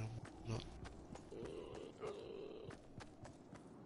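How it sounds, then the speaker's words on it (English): Pigs grunting in the video game Fortnite, a few low snorting grunts at fairly close range amid quiet game ambience and faint footsteps. "That's definitely pigs."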